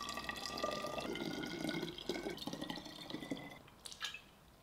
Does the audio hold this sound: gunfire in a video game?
no